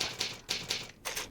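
Typewriter save in the video game Resident Evil 2: four crisp mechanical clacks in quick succession with a brief gap before the last, close and alone.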